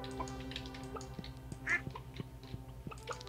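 Ducks quacking in the Stardew Valley farming video game, a single brief quack rising over a busy bed of game music and soft repeated ticks, fairly quiet in the mix.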